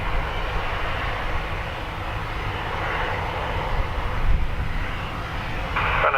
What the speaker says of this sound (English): Runway 10 right, clear for takeoff.